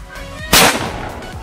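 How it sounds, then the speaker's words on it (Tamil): A paper sound cracker firework goes off in a single sharp, loud blast, with a short noisy tail dying away, heard outdoors at close range. "டைம் எடுத்துக்குது, உள்ளே போயிட்டு நல்லா தான் ஏற்றி வெடிக்குது"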